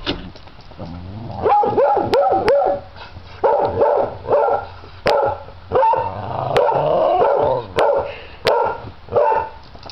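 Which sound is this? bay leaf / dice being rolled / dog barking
dog barking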